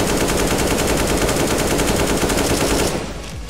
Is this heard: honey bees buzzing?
no